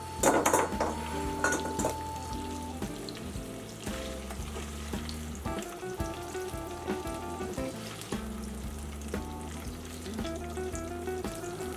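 Sausage sizzling and frying in a pot, broken into pieces while it cooks for Zuppa Toscana soup, with steady loud crackle, metal utensil scrapes and pot clatter throughout, no talking.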